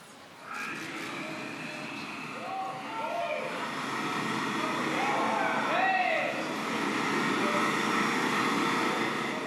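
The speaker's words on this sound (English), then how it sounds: "That's the sound of the jet engine we built spinning up to speed." A hydrogen-combustion jet engine spins up to speed, a steady roar that builds and grows louder over several seconds, with rising whining tones sweeping upward at intervals and faint room noise around it.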